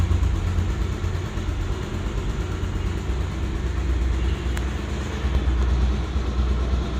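A Bajaj Pulsar motorcycle engine runs steadily at idle, a continuous low rumble with an even throb and no talk over it.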